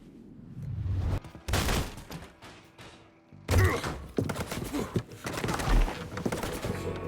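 Gunfire erupts in a Mafia 3 video game cutscene, with sharp bursts and thumps loud and close, broken by a short quiet gap, then dense irregular shots and impacts continuing to the end.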